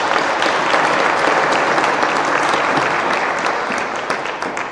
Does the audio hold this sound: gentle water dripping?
no